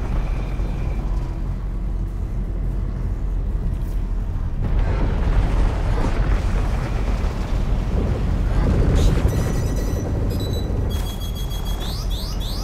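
Missiles launched at a ship in a space combat video game, a sustained loud roar of rumbling blasts and whooshes with sharper electronic tones layered on top near the end.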